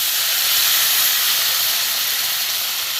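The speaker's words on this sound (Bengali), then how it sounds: "এবার আমি অল্প করে উপর থেকে জল দিয়ে দেবো।" A loud, steady steam hiss rises as water is poured onto rohu fish pieces frying in spiced oil, a broad continuous rush close up with no speech.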